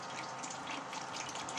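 TKO soap solution being poured into a mixing bucket for homemade laundry bar soap, a steady continuous liquid gush and splash, close and fairly loud, with no talking.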